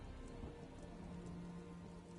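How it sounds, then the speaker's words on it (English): Rain in The Elder Scrolls Online during a storm, a steady faint hiss of falling raindrops pattering on surfaces, continuous and even throughout. "I could do without this damnable rain"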